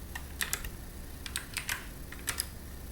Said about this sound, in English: I'm so bad at typing right now.